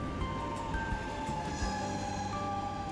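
A CPTM Line 13 airport express train arrives at a station, rumbling steadily nearby with a low mechanical drone and thin, high metallic squeals from the wheels, no voices.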